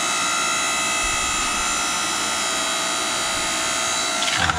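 Electric Southland log splitter running steadily outdoors, a continuous motor drone with a dense tonal whine that holds level throughout, close and fairly loud with no talking.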